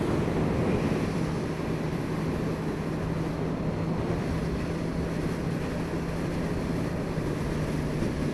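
Dense roaring wind rushes steadily past a motorbike accelerating on a motorway, with a faint engine drone buried beneath the constant broadband noise.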